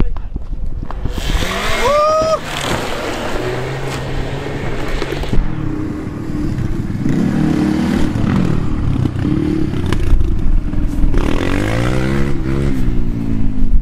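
An Opel Astra revs hard on a gravel pit, its engine droning and rising throughout under steady gravelly rumble, with a brief rising whine early on and people talking nearby.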